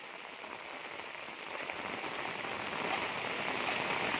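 Heavy monsoon downpour, the first big rain of the year, floods Farrukhnagar near Gurgaon, India, with a dense, loud, continuous roar of rain that swells slightly toward the end.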